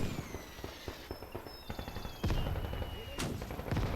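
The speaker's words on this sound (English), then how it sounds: "Unfortunately, the mortar is still functioning." Mortar and gunfire in the World War II game Gates of Hell during a Soviet trench defense battle, a rapid series of sharp blasts and booms, some heavy and close, over a tonal whine.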